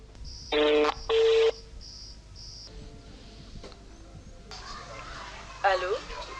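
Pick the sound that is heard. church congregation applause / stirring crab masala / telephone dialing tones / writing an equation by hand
telephone dialing tones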